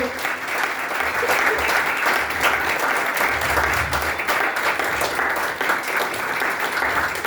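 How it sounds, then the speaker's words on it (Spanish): A church congregation claps loudly together during a service, dense sustained applause that carries on throughout with a faint murmur of voices beneath it. "Dale un fuerte aplauso al Señor."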